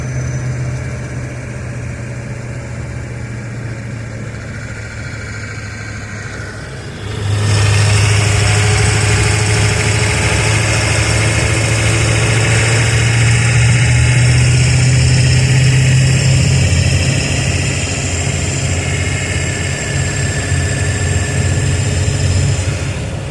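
A 1993 Ford F-250 pickup's 7.3 liter turbocharged diesel engine idles with a deep, steady rumble, then grows louder and rougher midway and keeps running heavily to the end.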